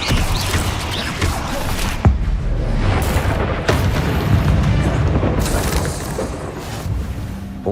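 Confringo fire spell blasts in Hogwarts Legacy, a couple of sharp booming explosions over a continuous rumbling, crackling game soundscape, fairly loud.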